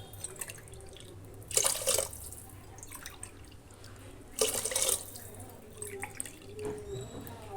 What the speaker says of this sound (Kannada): 5 ಕಪ್ ನೀರು ಹಾಕ್ತಾಯಿದ್ದೀನಿ.